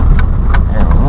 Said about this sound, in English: Alright, whole car goes through the snow pretty good.